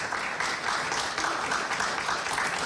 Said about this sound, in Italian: lo accogliamo con un applauso perché se lo merita